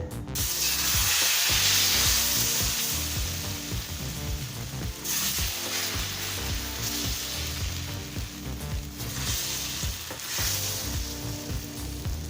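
Rava dosa batter sizzling on a hot griddle with oil, a loud, steady crackling hiss close up that swells in bursts as more oil hits the pan, continuing for several seconds with no voices.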